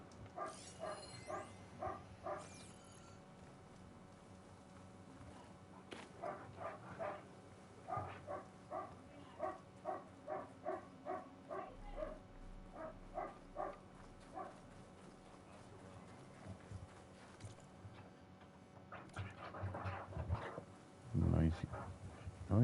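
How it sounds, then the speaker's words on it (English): A dog barks in the video game Horizon Forbidden West, a long run of evenly spaced barks, fairly faint, over quiet game ambience. "Dog's getting on my nerves."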